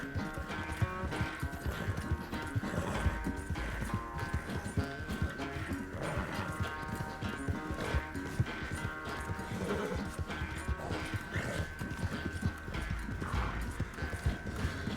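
In Red Dead Redemption 2, a horse's hooves beat a steady clip-clop at pace, with occasional snorts and whinnies, set against a dense game soundscape and music.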